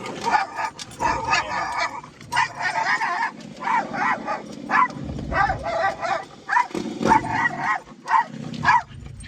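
A dog barks and yips excitedly in rapid, continuous bursts, loud and close, with whimpering mixed in.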